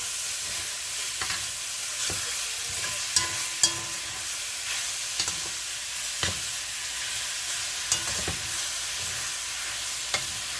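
Diced chicken breast fries in oil in a pot, giving a steady soft sizzle with occasional faint pops and a few light clicks of stirring.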